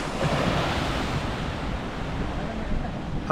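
Steady roar of sea surf washing onto Uppada beach, Kakinada, with continuous wind noise across the microphone and no clear voices.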